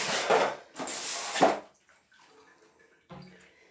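Fairly hot tap water gushes into a container for fabric dyeing, two loud close bursts of splashing flow in the first second and a half, then quiet drips and small clatters with a short knock near the end.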